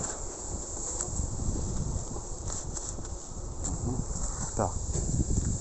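Honeybees from a spring swarm drone in a constant dense buzz close to the microphone, with rustling and handling noise over it and no clear speech.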